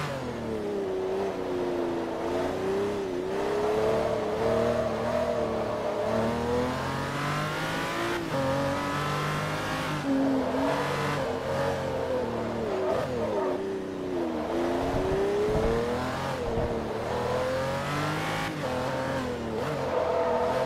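A Bugatti race car in Forza Motorsport 3 during a Class S lap, its engine droning and rising and falling in pitch as it accelerates and shifts through gears, steady and prominent for the whole stretch, with no talking.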